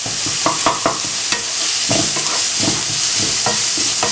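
Onions and ginger garlic paste fry over high flame in a pan under a constant sizzle, while a spoon stirs them with repeated close scrapes and clacks.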